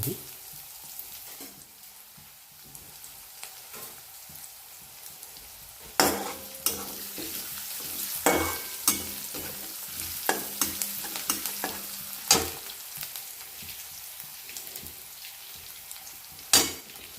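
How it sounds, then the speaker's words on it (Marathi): Onion, garlic, cumin and mustard seeds frying in a pan, with a steady sizzle under repeated spoon stirs and scrapes that grow louder and more frequent partway through. "कांदा लसूण जिरे मोहरी चांगले हलवून घ्यायचे"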